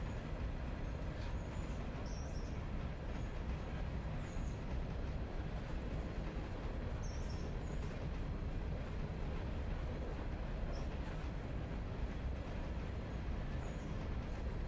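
A locomotive-hauled train rolls along the railway, a steady broadband rumble and rush held at an even level throughout with no voices.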